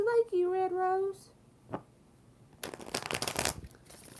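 Tarot cards are shuffled in a quick riffling burst after a brief tone and a soft knock, moderately close and fairly quiet.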